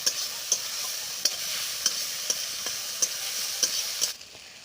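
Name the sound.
stirring and frying spices with garlic and ginger paste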